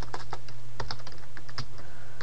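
Quick bursts of keystrokes on a computer keyboard as a command is entered in an Ubuntu terminal, close and crisp clicks in uneven clusters with a steady low hum underneath.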